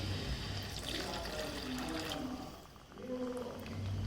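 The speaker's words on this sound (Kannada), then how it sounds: "ಈಗ ನಾವು ಸ್ವಲ್ಪ ನೀರು ಹಾಕೋದಕ್ಕೆ" Water is poured into a pan of half-cooked chicken gravy, giving a continuous close splashing pour that runs for a few seconds and then trails off.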